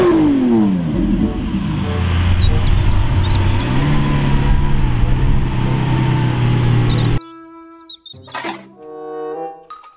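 A toy race car engine revs with a quick falling whine at first, then a continuous close buzzing drone lasting about seven seconds before stopping.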